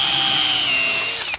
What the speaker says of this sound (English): So I'll drill through,